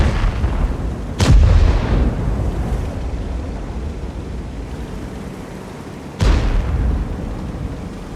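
Two heavy tank cannon shots boom out in World of Tanks, one near the start and one near the end, each a loud sharp blast trailing into rumbling decay over a steady battlefield background.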